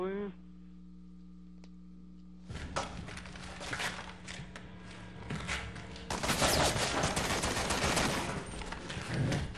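Rapid bursts of gunfire in Resident Evil 6, sustained and dense, growing louder midway with clicking mechanical sounds mixed in.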